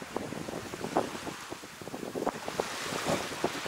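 Sea waves washing onto a quiet Thai beach around six in the evening, a steady rushing surf with gusts of wind buffeting the microphone, no voices.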